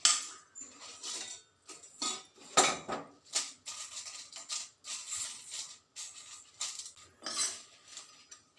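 Chillies being roasted in a pan, a fairly faint scraping and clinking of a spatula against metal in irregular bursts, with no talk.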